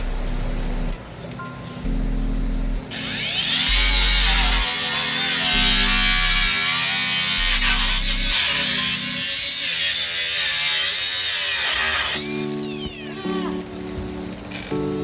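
A power tool cutting into the body of a 1959 Cadillac, a loud, high whining grind that holds for about nine seconds, with a lower hum before and after.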